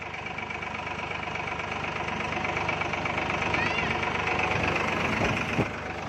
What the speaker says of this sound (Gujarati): રમીલા અટાણા ટ્રેક્ટર હાકે હવે